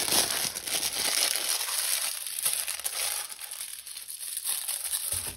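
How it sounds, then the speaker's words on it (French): Plastic packaging bag crinkling and rustling while a parcel of bead-craft items is unboxed, continuous close crackling and crumpling alone for several seconds. "Pardon pour les bruits de sac."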